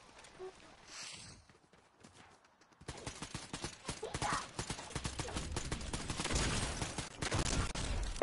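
Video game gunfire on a PS4 bursts in suddenly after a quiet start, then rattles on as dense, rapid shots and clattering with players talking over it.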